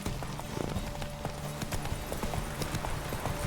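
Horse hooves clip-clopping at a steady gallop in The Witcher 3 video game during a race, loud and continuous with a rapid repeating rhythm over faint background music.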